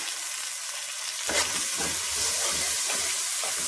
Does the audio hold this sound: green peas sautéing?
yes